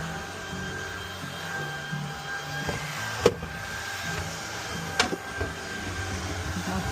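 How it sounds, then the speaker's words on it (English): A vacuum cleaner hoovers inside a canal boat on a hot day, giving a continuous close whining drone with a couple of brief knocks and bumps as it moves around. "And a quick hoover."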